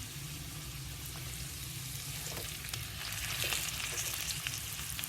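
Cumin seeds and green cardamom sizzle in hot oil in a pan, a steady close crackling fry with occasional sharper pops as the spices are stirred.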